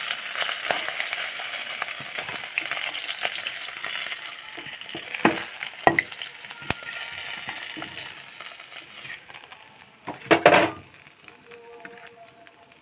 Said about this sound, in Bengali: মাছগুলো ভালো করে ভাজা হয়ে গেছে এবার তুলে নেব